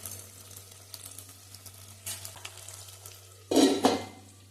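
Tomato and onion sautéing with salt in a pan for a fish curry, soft sizzling with intermittent stirring scrapes and a louder clatter of utensil against the pan near the end, close and without talk.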